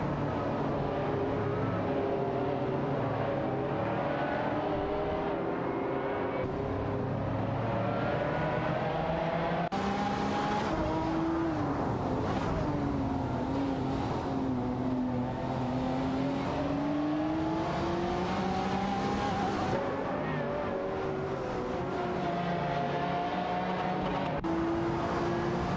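AI-driven race cars roar around a video game circuit, their engines droning and shifting in pitch continuously, loud and close throughout with no talk.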